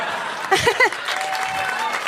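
Applause from a stand-up comedy club crowd, a continuous wash of clapping with a short spoken voice breaking in near the middle.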